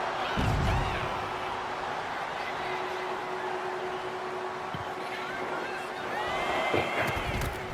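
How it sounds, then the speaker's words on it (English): A wrestling arena crowd in the WWE 2K25 video game roars in a steady, distant wash of cheering and shouting, swelling near the start and again toward the end, with a commentator's voice talking over it. "Crowd is probably ready for this match."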